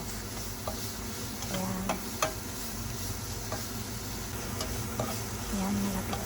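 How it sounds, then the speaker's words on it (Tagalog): Onion frying with a pork chop in a pan, a steady sizzle with stirring and scraping of a utensil, a few sharp ticks, and a brief spoken word over it. "Tapos, ilagay na natin yung onion. Fry din natin until maging soft."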